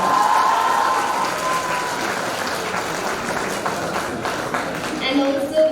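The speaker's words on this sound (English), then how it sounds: "You all deserve a huge round of applause." Audience applause at the Triyog SEE Batch 2078 graduation ceremony, a loud sustained crowd of clapping hands that eases off slightly toward the end, with a voice beginning to speak near the close.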